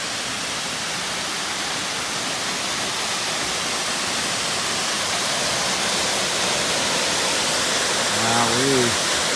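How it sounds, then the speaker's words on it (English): Long Creek Falls pours as a steady, dense roar of rushing water filling the whole scene, constant and loud, with a short voice near the end. "Long Creek Falls."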